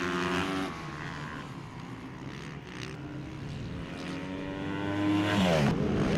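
Supermoto motorcycles racing on a circuit during the last lap of an FIM Asia Supermoto Championship race at a motorsport complex in Thailand, engines droning and rising in pitch as bikes pass, steady and loud with a swelling passby near the end.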